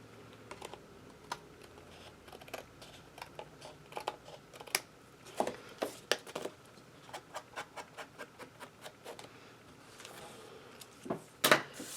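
Sharp scissors snip through paper and cardstock while trimming pieces for a handmade mini album, giving a run of crisp, close cuts at irregular intervals, with a louder cluster of snips near the end.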